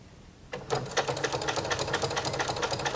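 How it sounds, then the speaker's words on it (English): A sewing machine fitted with a walking foot quilts a potholder, starting after a brief quiet moment and then running in a quick, steady mechanical stitching rhythm, close and fairly soft. "I'm going to use my walking foot and I'm just going to do some gentle curves"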